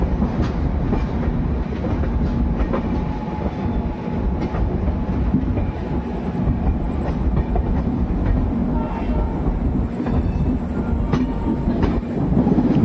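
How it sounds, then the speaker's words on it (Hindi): Indian Railways WAP7 electric locomotive and train at Jaipur Junction, a steady loud rumble of rolling stock with rhythmic wheel clatter continuing throughout, no voices. "जयपुर जंक्शन और बैकग्राउंड में WAP7।"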